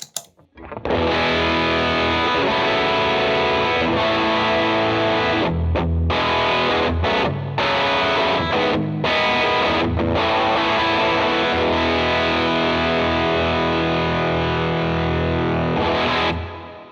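Electric guitar driven through the left side of a worship pedalboard for a mid-gain overdrive sound, loud sustained chords with a few brief stops and restarts, ringing steadily throughout with no talking.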